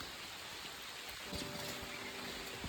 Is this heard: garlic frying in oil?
no